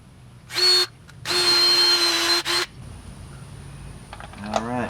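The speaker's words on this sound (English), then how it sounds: "Drill away." Power drill boring holes to mount a Ryobi 2 HP garage door opener, heard as three loud whirring bursts, one short, one long and one brief, followed by quieter handling clicks.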